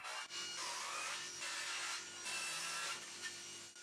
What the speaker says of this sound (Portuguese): usar na serra de bancada para cortá-la em 3 partes